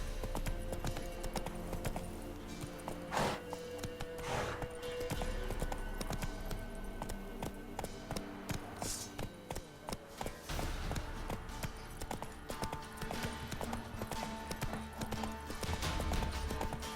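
Horse hooves clip-clop at a steady gallop in The Witcher 3, a continuous rhythmic pounding under game music and ambience, with a brief whinny-like call partway through.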